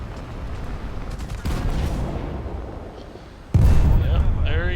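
A 1,000 kilo bomb dropped in a World War II tank battle video game bursts with a loud, deep blast near the end, following a steady rumble of engine and gunfire noise, with a voice talking over it.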